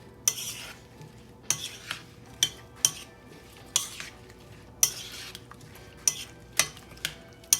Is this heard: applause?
no